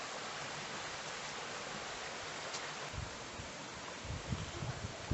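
A small stream flowing on the North York Moors near Goathland, heard as a faint, steady broadband rush of running water with a few soft rustles or footsteps toward the end and no speech.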